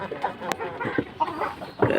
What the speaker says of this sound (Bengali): এটা ঘরের বাচ্চা ফুল ব্ল্যাক, নিউ পাট্টা,